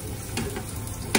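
Food frying and being stirred in a pan while making spaghetti carbonara, a steady close sizzle with a few scraping stir sounds, one sharper scrape near the end, no talking.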